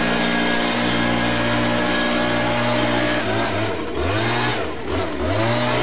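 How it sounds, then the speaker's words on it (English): A gas leaf blower runs loud and steady nearby, blowing grass trimmings back into a mowed lawn, with a lower engine drone that shifts and swells partway through. "I'm going to take the blower and blow all the excessive trimmings back into the lawn"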